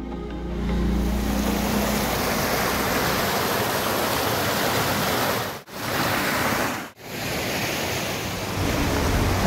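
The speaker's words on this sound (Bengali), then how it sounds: "আপনারা দেখছেন কি সুন্দর জলধারার শব্দ।" Water rushes steadily and loudly from a flowing stream beside Deulghata temple in Purulia, a dense unbroken roar with two brief dips, with no voices.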